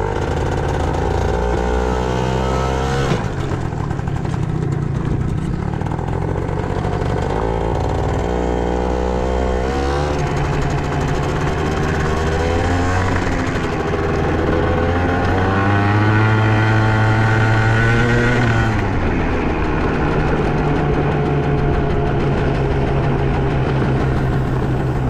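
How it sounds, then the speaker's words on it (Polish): A small two-stroke Italjet 180 cc dragster scooter engine runs continuously, its pitch rising and falling as the throttle changes, with a buzzy, revving tone close by. "Pięknie chodzi ten skuterek."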